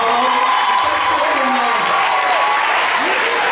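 A church congregation gives a pastor a loud, sustained ovation: dense applause mixed with cheering and whoops that fill the room, with voices calling out through it.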